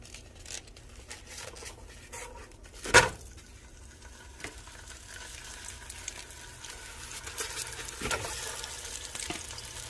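Sausage dropped into a hot pot for Zuppa Toscana soup, giving a soft steady sizzle with a sharp burst as it hits and occasional scraping clatter, fairly quiet and without talk.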